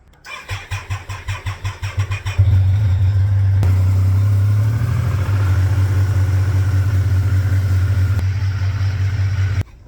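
A Triumph motorcycle engine cranks in a rapid series of starter pulses, then catches and settles into a loud, steady idle that runs on close by.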